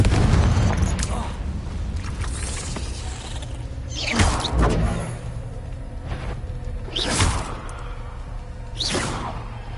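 Confringo blasting spells fired in Hogwarts Legacy on PS5: three or four whooshing bursts ending in booms, spaced a few seconds apart, over a steady rumbling, mechanical game backdrop.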